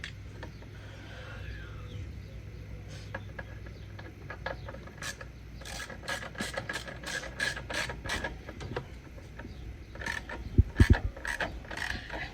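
A bolt is tightened on a PRL high-volume intake in an FL5 Civic Type R, with scattered close ratcheting clicks and small metallic knocks growing denser toward the end, no talk.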